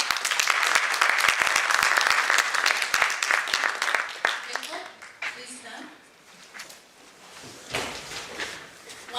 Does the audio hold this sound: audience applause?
yes